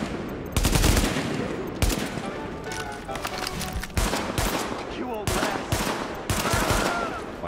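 Pistol fire in the video game Tom Clancy's The Division rings out as loud, sharp shots in irregular groups, each crack trailing off before the next volley, with busy game ambience between them.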